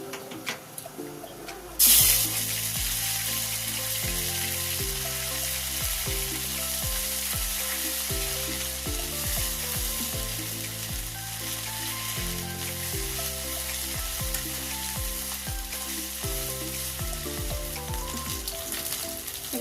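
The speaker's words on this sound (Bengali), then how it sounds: "ফোড়নটা ভাজা হয়ে গেছে আদা রসুন বাটাটা দিয়ে দিচ্ছি" Ginger-garlic paste drops into hot oil with fried tempering spices for a prawn and taro-leaf dish. A sudden loud burst gives way to a strong, continuous close sizzle with occasional stirring scrapes.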